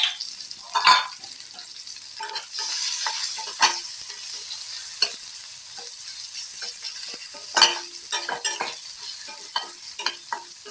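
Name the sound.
chopped onion frying in oil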